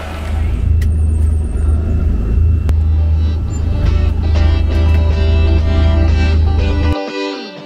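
Heavy, steady low engine rumble from inside an enclosed Raptor off-road vehicle on an ATV ranch tour, loud and continuous for about seven seconds, then cutting off abruptly near the end.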